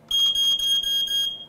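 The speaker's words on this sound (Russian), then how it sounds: "Внутри пластикового корпуса датчик дыма и звуковая сигнализация." A 9-volt battery smoke detector with a plastic housing and built-in sounder gives a loud, close, shrill electronic alarm tone, sounding almost continuously with a few brief breaks.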